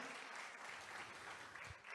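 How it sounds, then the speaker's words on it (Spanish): Congregation applauding during a church service, a continuous wash of clapping from a gathered crowd, quite faint and distant, with a few voices mixed in. "Fuerte ese aplauso a nuestro Dios en esta tarde."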